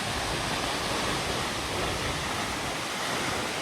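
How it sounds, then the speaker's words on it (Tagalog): Multnomah Falls waterfall in Corbett, Oregon, seen up close, its water crashing and splashing in a loud, steady broadband roar that holds constant throughout, with no voices over it. "Nag-i-splash kung saan-saan yung tubig."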